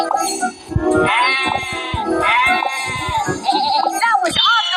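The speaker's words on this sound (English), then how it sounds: "Sheep have wandered onto the tracks." Cartoon sheep in a Thomas the train video game bleat in repeated wavering calls over bright game music, loud and continuous with short gaps.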